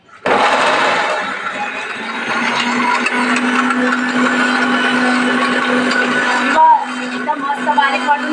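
A mixer grinder whirs loudly and steadily while grinding karonda chutney, a close, continuous motor roar that cuts off abruptly near the end, followed by someone speaking in Marathi.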